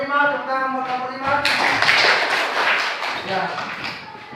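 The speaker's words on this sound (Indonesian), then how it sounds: "Tepuk tangan buat kelompok 5" Students in a classroom clap for a presenting group, a burst of many hands that starts after a brief spoken line and continues steadily for about three seconds at close range.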